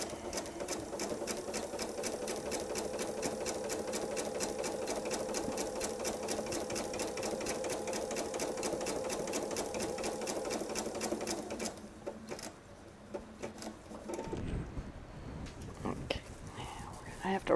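A sewing machine stitches a patriotic quilted table runner, a fast steady rattling hum running for about twelve seconds, then stopping for quieter handling noises and brief restarts.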